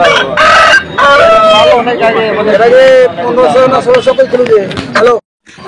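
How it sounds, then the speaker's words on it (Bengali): Roosters, both local desi birds and crossbreeds, crowing loudly at a chicken market, with several drawn-out calls overlapping one another and clucking mixed in before the sound cuts out near the end. "এখানে কয়েকটা মোরগ আছে, দেশি আছে এবং দোসালা টাইপের আছে"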